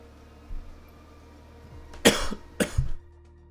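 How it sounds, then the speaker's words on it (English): A person coughs during a live flight-simulator stream: a soft throat sound, then two distinct harsh coughs close to the microphone against a quiet background hum. "I'll try to pause it while I'm coughing"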